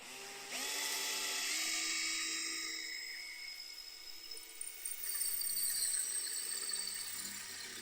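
A Bosch Pro multi-construction drill bit bores into ceramic wall tile, starting with a sharp whine as it bites, then settling into a steady high-pitched grinding drone that roughens and intensifies near the end, loud and close with no talk.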